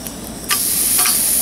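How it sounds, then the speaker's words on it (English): A thick hamburger patty with habanero goes into a hot skillet over a campfire, setting off a loud, sudden sizzle that holds steady as a close, bright hiss. "we're going to take that mixture of hamburger patty and we're going to place it directly into the"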